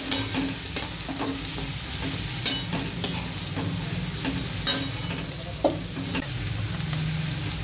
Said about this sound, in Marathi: तर आपण भेंडी कट करून घेतली होती ती ह्याच्यामध्ये आपण टाकून घ्यायची, ती पण छान परतून घ्यायची आपल्याला